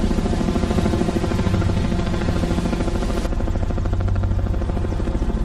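A helicopter flies over a flooded landscape during rescues, its rotor throbbing in a loud, continuous pulsing drone with no pause.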